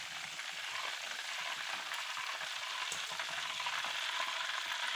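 Chicken coated in besan batter fries in hot oil with a steady, soft, continuous sizzle and crackle, with no voices.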